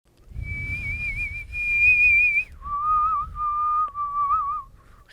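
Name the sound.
human whistling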